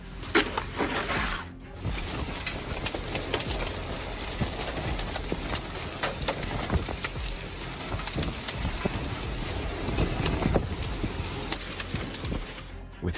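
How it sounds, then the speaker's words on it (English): Heavy rain and hail in a fierce storm, a dense roaring downpour with scattered sharp impacts on surfaces, loud and continuous throughout with no voices. "With heavy rain and hail moving into Glen Rose"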